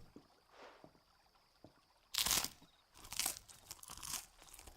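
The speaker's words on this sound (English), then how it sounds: "Nice crunchy bread." Crunchy bread being bitten and chewed in the video game Final Fantasy XVI, with a few sharp, close crunching bursts separated by quieter pauses.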